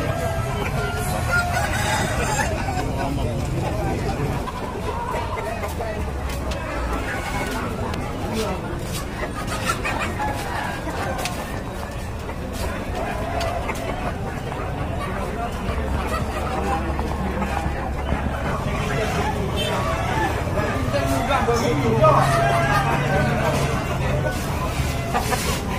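Bangkok fighting chickens at a poultry market in Tulungagung cluck and crow almost continuously, close and loud over a steady hubbub of background crowd chatter.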